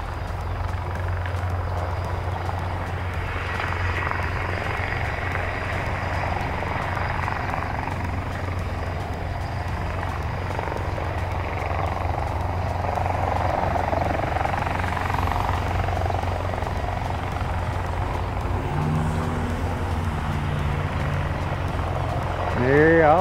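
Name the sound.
military helicopter hovering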